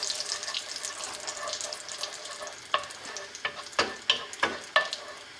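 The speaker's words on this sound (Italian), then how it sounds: "Lasciamolo soltanto sfrigolare un altro po' il nostro pepe" Cracked black pepper sizzles in butter and extra-virgin olive oil in a pan for a Neapolitan vermicelli dish, with a steady close frying hiss and several sharp stirring clicks and scrapes toward the end.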